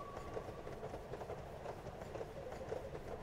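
Steady rumble and rhythmic clatter of a train rolling along rails in the video game Cornucopia, continuous and moderately loud with no voices over it.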